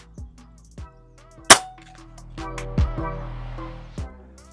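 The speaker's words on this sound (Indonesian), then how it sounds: "tembakan pertama" A single sharp, loud crack of a PCP air rifle shot stands out in a quiet setting, followed by a softer metallic clink and a few faint knocks.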